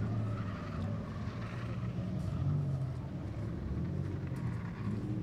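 Race cars roar off turn 4 at Claremont Motorsports Park during a 6-shooters feature finish, engines droning loudly with a rising, shifting pitch as they pass, with no talk over them.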